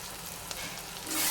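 Tomato sautés in oil for garlic kuzhambu, a brief loud steady sizzle close by that swells slightly at the end.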